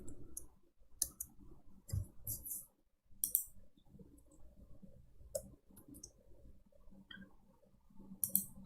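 Keyboard keys clicking in short irregular bursts with pauses between them, fairly quiet and close, as someone types a command into a computer; no voices.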